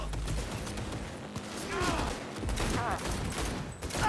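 Gunfire in Cyberpunk 2077 during a firefight, sustained rattling volleys of shots under and between voices talking and shouting.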